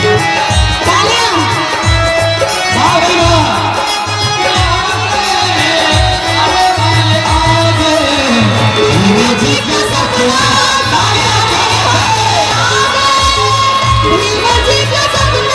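A loud, excited crowd at a Bahujan political gathering cheering and shouting over amplified singing with drumbeats, children's shouts and whoops mixed into the dense noise throughout.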